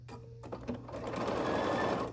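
A sewing machine stitches quilt block units of orange and black half-square triangles, its steady motor hum building after a few brief starts and running continuously near and moderately loud.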